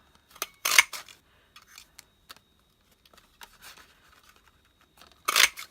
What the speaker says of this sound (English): all I did was get this punch again